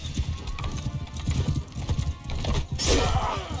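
Rapid galloping hoofbeats pound in a steady rhythm, loud and close, with a brief whoosh of noise near the end, in the video game Mount & Blade II: Bannerlord arena.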